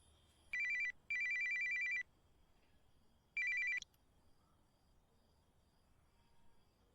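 Telephone ringing in bursts of electronic trills: one short ring, a longer one right after, then a pause and a third ring, clear against a quiet background with faint insect-like hiss.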